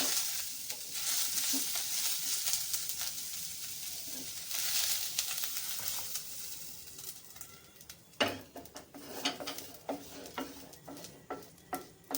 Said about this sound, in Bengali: এবার 2-3 মিনিট ভাজা হয়ে গেছে